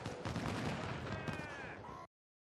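Dense musket and artillery fire from a Civil War battle in the Ultimate General: Civil War game, a loud continuous crackle of volleys that cuts off abruptly after two seconds.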